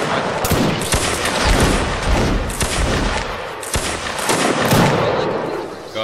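Musket volleys crash out in ragged repeated waves of overlapping loud shots that echo into a dense roar, several rolling volleys over a few seconds with no pause.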